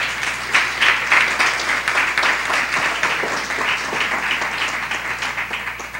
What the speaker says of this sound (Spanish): les pido un aplauso para todos ellos